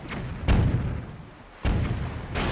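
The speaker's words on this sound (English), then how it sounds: "And now we'll activate our bombs and we're going to blow this guy out of the water." Bombs exploding against a warship in a video game, two deep heavy booms about a second apart, each with a rumbling tail, fairly close and alone.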